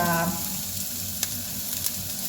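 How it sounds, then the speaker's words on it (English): Leeks sizzle steadily in a hot pan with a continuous frying hiss, punctuated by a couple of light clicks of stirring. "Just in sizzling and burning."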